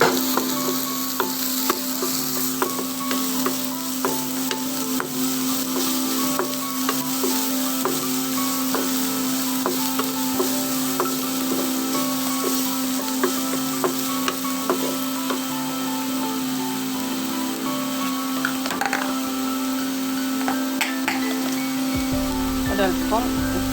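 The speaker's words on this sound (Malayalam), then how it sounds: "നമ്മൾ അരിഞ്ഞു വെച്ചിരിക്കുന്ന ഉള്ളിയും ഇഞ്ചിയും പച്ചമുളകും കൂടി വെളിച്ചെണ്ണയിലേക്ക് ഇട്ട് നന്നായി ഒന്ന് വറുക്കുകയാണ്" Chopped onion, ginger and green chilli sizzle steadily in hot coconut oil, a dense continuous frying hiss with occasional stirring clicks and scrapes, close and loud throughout with no talking.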